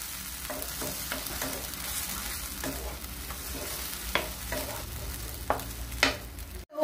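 Blended tomato puree fries in oil in a pan for paneer butter masala, sizzling steadily while a spoon scrapes and stirs in repeated strokes close by, with a louder clatter at the end.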